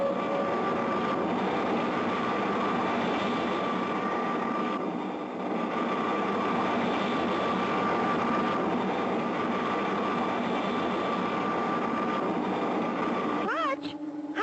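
Cartoon spaceship flying low in passes over Mars, a continuous whirring engine drone with a brief dip midway and a rising whistle near the end, with voices talking over it.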